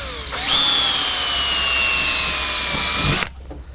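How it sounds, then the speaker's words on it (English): A power drill bores a hole through a metal jig for a Jabiru aircraft engine installation, a close steady whine lasting about three seconds before stopping abruptly. "Drill the first hole"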